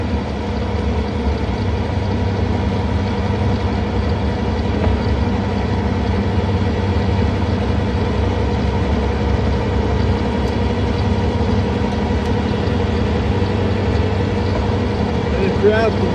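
Skid steer fitted with a snow blower attachment runs steadily throughout, a constant low droning engine hum with no change in pace, heard from nearby in winter snow clearing on a farm.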